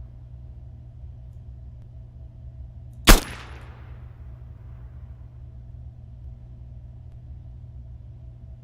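A single loud rifle shot cracks out in the Arma Marksmen DLC video game, fired prone from a bipod, then decays into a short echo over a steady low ambient rumble.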